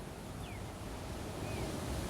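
Ocean waves washing against a shore beneath a tree under a partly cloudy sky, a dense continuous roar of surf mixed with wind buffeting the microphone, and faint bird chirps briefly rising above it.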